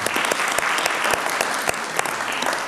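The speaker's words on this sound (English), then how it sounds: "Let's give him a round of applause as well." A city council meeting audience applauds a young honoree, dense and sustained clapping with sharp individual claps standing out, fairly close and loud throughout.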